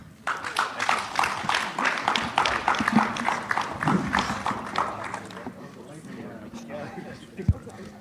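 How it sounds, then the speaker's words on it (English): Audience applause at an Africa business summit in the USA, a dense burst of clapping from a large crowd lasting several seconds before tapering off into scattered claps. "a round of applause once more for the team"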